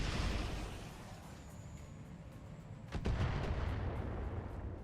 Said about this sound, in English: So that means that must have been mortars.